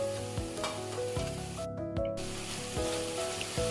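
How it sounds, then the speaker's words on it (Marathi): Kitchen King masala, turmeric, homemade masala and chili powder being stirred and roasted together in a pan for a Maharashtrian mixed-sprout curry: a steady close sizzle with repeated scraping strokes of a spoon, no voices. "हे सगळं एकत्र करून चांगलं भाजून घ्यायचे."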